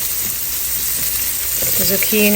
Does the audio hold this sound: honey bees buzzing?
no